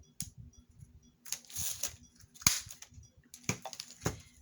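Paper card corners trimmed with a handheld corner rounder punch for junk journal ephemera, giving several sharp separate clicks and snips with short handling rustles between them, close and fairly quiet.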